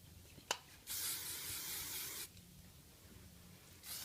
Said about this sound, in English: More hairspray, lots of hairspray.